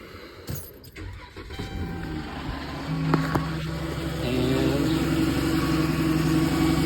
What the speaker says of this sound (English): we're going to go over here and start the engine.